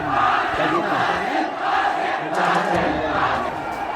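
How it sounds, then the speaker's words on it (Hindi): A crowd of hundreds holding flags shouts slogans at a violent protest in a collectorate compound, a dense, continuous roar of massed voices close by and loud throughout. "कलेक्ट्रेट परिसर में देखिए सैकड़ों की भीड़ है, सबके हाथ में झंडा और सब नारेबाजी कर रहे हैं।"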